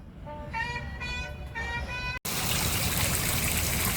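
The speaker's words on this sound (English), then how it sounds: "But so this drain is draining great." A backyard drain in Sarasota, Florida, swallows water with a loud, steady rushing gush. A brief tonal, melodic sound comes first, then a short break.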